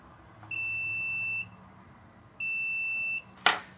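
A multimeter's continuity test on a camera wire gives two steady electronic beeps, each about a second long with a pause between, followed by a short sharp click.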